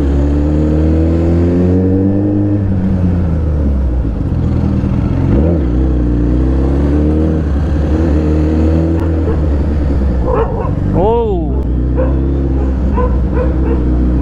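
A Suzuki Hayabusa motorcycle ridden through traffic: a loud, steady engine drone with rising and falling revs and gear changes, and a short sharp whine or yelp rising briefly near the end.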